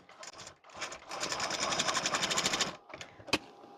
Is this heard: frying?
no